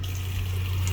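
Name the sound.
water flowing out of RV pipes after flushing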